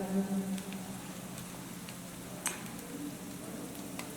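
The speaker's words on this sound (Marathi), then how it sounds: "त्याचा कलर ब्राऊन कलर होईपर्यंत त्याला परतत राहायचा आहे गॅसचा फ्लेम हा मीडियम फ्लेमवर ठेवायचा आहे" Onions fry in a pan over a medium gas flame, making a soft, even sizzle with faint crackles. It is steady and fairly quiet, with a few light stirring clicks and no talking.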